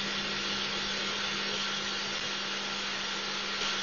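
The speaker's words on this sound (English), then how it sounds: "There's also noticeable ambient fan noise." Steady broadband fan whir from a Creality Sermoon V1 Pro 3D printer, with a low constant hum, continuous and fairly loud throughout, no voices.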